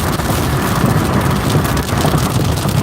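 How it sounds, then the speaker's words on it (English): A thunderstorm drowns out everything inside a moving car: dense, loud, continuous rain and rumbling with no clear breaks, no voices. "I'm driving under a thunderstorm right now"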